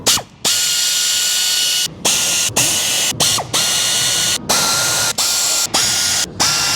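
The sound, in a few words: ratchet loosening oil pan bolts on crate motor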